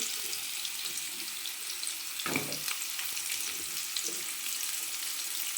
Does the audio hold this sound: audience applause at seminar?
no